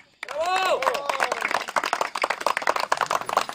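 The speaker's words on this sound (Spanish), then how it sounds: "¡El aplauso!" A crowd claps and cheers at an awards ceremony for a local football tournament in San Juan Lajarcia, with a whistle at the start and voices mixed in.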